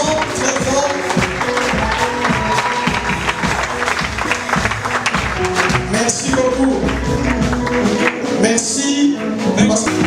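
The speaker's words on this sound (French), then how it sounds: "L'applaudissons très fort." An audience claps steadily and loudly in a church during a dedication service, the dense applause running throughout over music, with a brief voice giving thanks.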